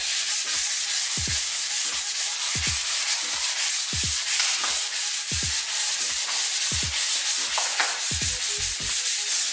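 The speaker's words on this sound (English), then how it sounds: "I'm going to start using 320 grit sandpaper and just kind of go over the surface here" Hand sanding a Cape Dory 25D sailboat's exterior surface with 320 grit sandpaper, a steady loud back-and-forth rasp with regular rhythmic strokes, close up and continuous with no voices.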